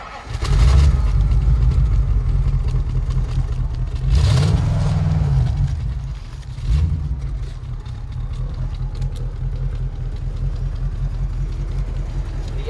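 A Bristol 411 car's engine cranks and fires up, revs sharply a couple of times close to the exhaust, then settles into a steady deep idle that runs on alone.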